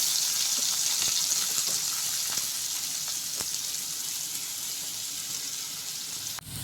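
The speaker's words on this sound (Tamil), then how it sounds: "பெரிய வெங்காயம் நறுக்கி வச்சுருக்கேன், அதையும் போட்டு நல்லா வதக்கணும்." Steady frying sizzle of chopped large onions sautéing in a hot pan for chana kurma fills the clip, with occasional stirring clicks and a sharp tap near the end.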